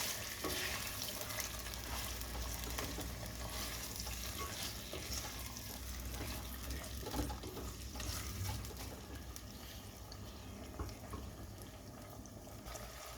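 Peanuts are stirred in a frying pan with a continuous soft sizzle and gritty scraping, a faint, even texture with occasional small clicks throughout.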